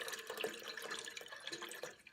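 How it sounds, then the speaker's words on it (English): Milk pours into a pot on a stove for yogurt in a Dutch oven double boiler, a short liquid splashing and trickling sound, close and fairly quiet. "pour in the remainder of the milk"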